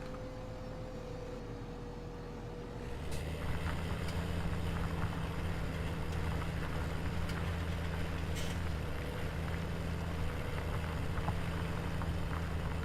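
Deutz-Fahr Agrotron L/X 700 series tractor in Farming Simulator 2017, pulling a heavy load slowly: a low, steady engine drone that swells after a quieter opening and then holds constant and loud with faint clicks.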